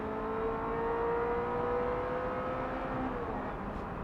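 A Ferrari F355 Spider's 3.5-litre V8 sings from behind the cabin, a sustained loud engine note holding steady at high revs with a smooth, even drone and no voices.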